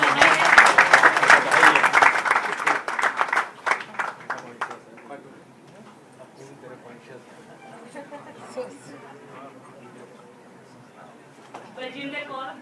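Audience clapping at a Haryana Diwas gathering to congratulate a child on a birthday, loud and dense at first, then thinning and fading into quieter background murmur, with a brief burst of sound near the end.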